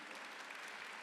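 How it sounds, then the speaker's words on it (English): Applause from a conference opening-ceremony audience for student dancers, a steady wash of many hands clapping at moderate level through the whole short stretch. "So a big round of applause for them,"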